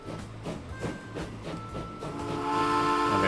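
Steam train in the Transport Fever simulation game, its whistle sounding in a sustained tone over rhythmic chuffing and rail noise, with a brighter hissing burst of steam building toward the end.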